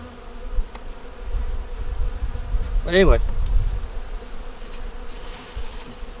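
Honeybees buzz around a hive in a continuous close drone, with a voice briefly speaking over it midway.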